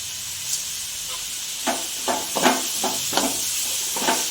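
Onion and tomato being sautéed with salt in a pan, with a constant hissing sizzle and several soft scraping stir strokes spaced across it, no talk.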